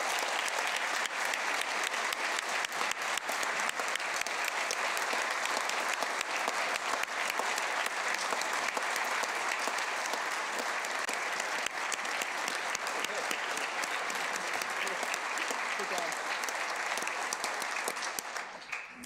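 Sustained, steady applause from a large audience for Commissioner Jim Terwilliger and his team at a governor's budget address, an even wash of clapping lasting many seconds before tapering slightly at the end.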